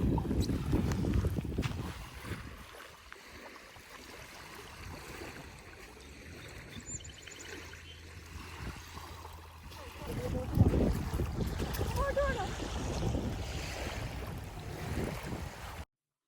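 Boats move on the water beside a bridge that opens to let them through, a low rumbling engine and water wash with wind buffeting the microphone, swelling louder toward the end.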